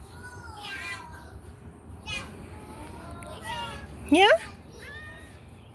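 A cat meows several times in a garden, with short, rising calls spaced through the moment and one louder, sharper cry near the end. A person speaks briefly.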